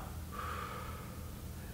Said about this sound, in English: So if I demonstrate from the breathing out,